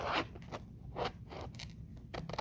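Scissors snip through card while a DIY envelope is cut, giving a quiet series of short, crisp cuts and scrapes with small pauses between them, heard up close and alone.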